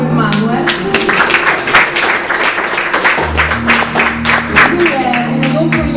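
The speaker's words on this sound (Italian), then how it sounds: "Un applauso per Manuel." An audience at a wellness talk applauds as a speaker named Manuel is introduced, steady, moderately dense clapping throughout, with voices talking over it.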